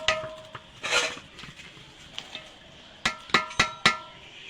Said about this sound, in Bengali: এর মধ্যে গামলায় ঢেলে নেব আলুগুলো